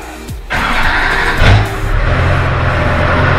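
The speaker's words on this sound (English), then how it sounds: "Let's fire the truck up and make sure she works." An LB7 Duramax diesel pickup truck engine cranks and catches, settling into a low, steady rumbling idle close by.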